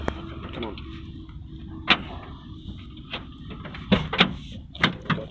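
A stuck Toyota van door is forced open with a series of sharp knocks, clunks and scrapes spread across the clip, while people talk nearby.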